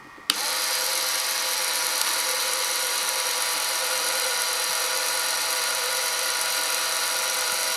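A play house lever mechanism starts with a sharp click and then runs in continuous reciprocating motion, a steady, loud mechanical whir and buzz that holds constant for several seconds without talk.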